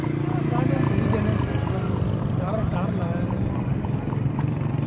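Horse hooves clip-clop steadily along a road with a rhythmic, fairly close beat, mixed with passing motorcycle engine noise and people talking throughout.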